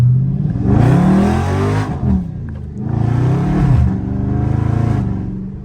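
A Dodge Challenger Scat Pack's engine revs hard and loud while the car spins donuts on a wet road in the rain, two long roaring bursts rising and falling with a short dip between them, close and alone with no talk.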